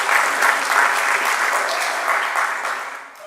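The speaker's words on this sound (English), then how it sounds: "Now, you could applaud for that." A town hall audience applauds in a full, continuous burst of many hands clapping, holding strong before thinning out toward the end.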